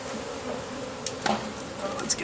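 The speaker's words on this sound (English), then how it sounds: "And that cluster of bees right there, I'm almost positive." A cluster of bees hums in a steady low drone close by, with a few brief sharper clicks or taps breaking through near the middle and end.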